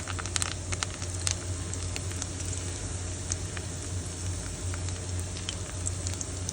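Sweet potato leaves fry as tempura in hot oil in a covered pan, a steady dense sizzle and crackle with scattered sharper pops throughout, close and continuous with no talking.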